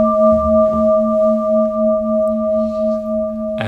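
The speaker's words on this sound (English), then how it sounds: "between each stage I'm going to ring this bell" Meditation bell already ringing at the start, a steady pure metallic tone with clear overtones that sustains evenly and slowly fades, close and alone, with a faint knock right at the end.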